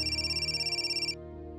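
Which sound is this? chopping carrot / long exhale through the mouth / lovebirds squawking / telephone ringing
telephone ringing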